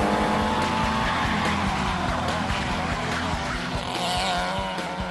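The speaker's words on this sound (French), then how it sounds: "Arrivé à la chicane, je vais freiner un peu fort là." Renault 5 Alpine brakes hard into a chicane, its engine note droning loudly with rhythmic gear and drivetrain pulses and a strained, squealing edge throughout, close and continuous.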